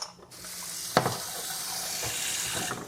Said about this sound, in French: on met directement la casserole sous l'eau